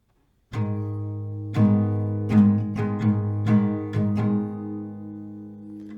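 Acoustic guitar strummed in a slow pattern, about eight ringing strokes of a chord with uneven spacing, each stroke sustaining into the next.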